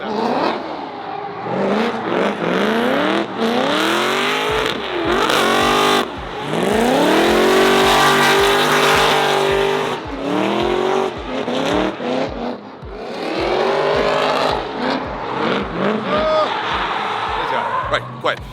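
Loud, close drift car engines rev and scream as cars slide past one after another at a UAE drift event, tires squealing, with someone talking faintly underneath.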